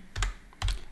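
Two short bursts of computer keyboard typing, close and clear, entering an address to log into a WordPress admin panel, with a brief pause between the bursts.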